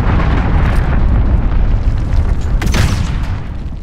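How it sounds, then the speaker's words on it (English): A cruise missile explosion in Call of Duty Modern Warfare 2019 rumbles loud and close in a sustained roar, with a sharper debris burst swelling near the end before the blast fades. "Enemy cruise missile, take cover."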